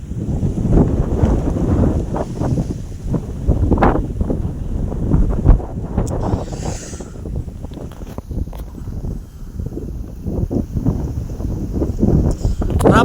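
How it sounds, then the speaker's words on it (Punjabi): Cold wind blows hard during a thunderstorm, rushing and buffeting the microphone in uneven gusts throughout, while a voice speaks at times over the roar. "ਹਵਾ ਠੰਡੀ ਚੱਲੀ ਜਾਂਦੀ ਹੈ"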